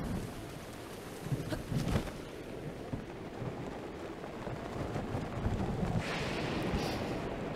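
Steady rain pours through a thunderstorm in The Legend of Zelda: Breath of the Wild, a dense broadband hiss with a brief louder rumble near the start and a brighter gust of rain toward the end, with no voices.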